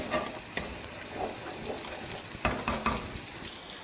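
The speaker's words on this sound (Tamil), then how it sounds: "கிரேவி பாருங்கள் நல்லா கொதிச்சுக்கிட்டு இருக்கு" Kovakkai gravy bubbling and sizzling steadily in a pan on the stove, a continuous close frying hiss with occasional sharper pops and spatters, no talking.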